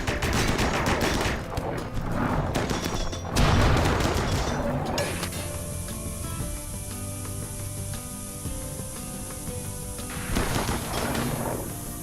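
Assault rifle fire in RimWorld: dense rapid bursts of shots rattle for several seconds, then fall to a quieter steady hum before another volley breaks out near the end.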